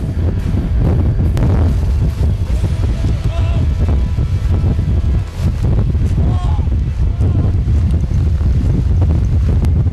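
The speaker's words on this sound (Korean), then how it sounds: "한 발 떼기도 힘들 정도로 바람이 점점 거세진다" Strong wind on a snowy mountain slope roars and buffets the microphone continuously and loudly, with gusts surging throughout and a brief dip midway.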